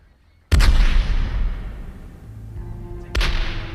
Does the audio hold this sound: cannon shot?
yes